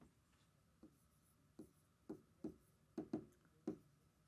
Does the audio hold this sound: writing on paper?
yes